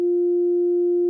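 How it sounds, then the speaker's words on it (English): A pure, steady electronic sine tone from a Casio CZ-101 synthesizer holds at one pitch for about a second, clean and unwavering, with no other sound. "What you're hearing there is the sine wave."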